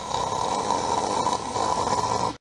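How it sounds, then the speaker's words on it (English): A steady, droning snore rumbles on without pause for a couple of seconds at moderate volume, then cuts off abruptly, with no talking over it. "I just heard what sounded like Mr. Lazy snoring"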